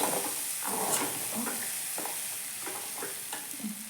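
Cooked legumes (kaalu) stirred in a pan for palya, a spoon scraping through in soft repeated strokes over a steady faint sizzle, close and fairly quiet with no talking.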